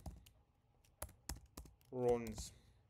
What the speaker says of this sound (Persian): چقدر بعد دارم بد تایپ میکنم.